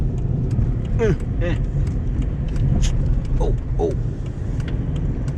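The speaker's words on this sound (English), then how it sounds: "There's all this crazy traffic" Road traffic heard from a stopped vehicle, a steady low engine and road rumble with cars passing, while a brief exclamation and other voices sound over it.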